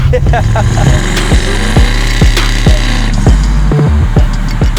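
A twin-turbo LSX V8 in a 1966 Chevelle rumbles loudly up close at a lumpy, steady idle, its deep exhaust throb pulsing with a regular beat for the whole stretch.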